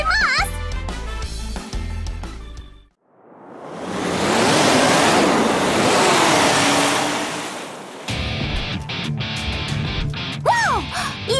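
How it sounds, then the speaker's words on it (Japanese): A jet lance watercraft from Kandagawa Jet Girls roars past along the California coast, a broad rushing wash of engine and spray that swells loud, holds for several seconds, then fades. Voices and music come before and after it. "今の音はジェットランスです！"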